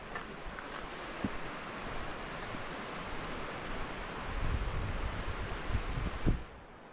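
The Orchy River in the Scottish Highlands flows as a steady broadband rush of water, moderately loud and continuous, with occasional faint bumps and no talking.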